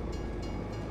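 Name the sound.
train arriving in Farming Simulator 22 video game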